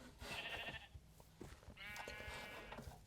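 Goats bleat in the Minecraft video game: two wavering, nasal bleats, one early and one longer later, over quiet background noise with no talk.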